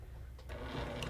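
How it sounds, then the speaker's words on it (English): A sewing machine stitches quilt binding at a quarter-inch seam, a faint, close mechanical whir rising after a brief pause and running steadily to the end. "I'm going to stitch right to the pin."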